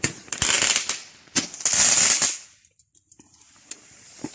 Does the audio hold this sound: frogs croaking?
no